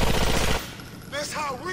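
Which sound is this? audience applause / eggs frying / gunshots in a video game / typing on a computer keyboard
gunshots in a video game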